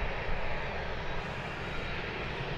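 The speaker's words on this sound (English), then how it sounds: "that's a very, very expensive private jet just come in to Blackpool Airport." A very expensive private jet arrives at Blackpool Airport, its engines a steady, broad roar heard at a moderate distance, holding level throughout with no voices.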